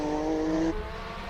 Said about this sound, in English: 4 wheels spinning there.